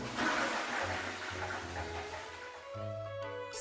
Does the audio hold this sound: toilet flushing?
yes